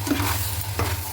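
A spoon scrapes briefly through sooji upma in a pan just after water has been added, one close stroke over a steady sizzling hiss.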